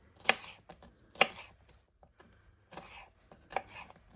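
Knife dicing vegetables on a chopping board for savoury rice, a few sharp chops in quick clusters with pauses between, close and clear with no talk.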